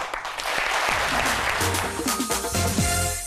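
A French TV studio audience applauds as a guest comes onto the set, with loud, dense clapping filling the clip and a music sting rising underneath partway through.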